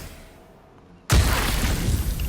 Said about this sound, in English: let's do our poison breath